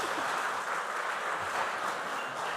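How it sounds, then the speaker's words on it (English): An audience at a school quarter-final competition applauds. The clapping is a dense, even wash of many hands, fairly loud and steady for a couple of seconds, with no voices rising above it. "A round of applause for them again."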